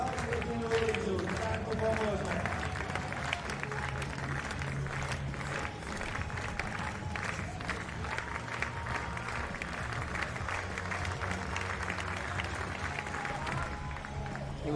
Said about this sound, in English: the crowd, lots of oohs and ahs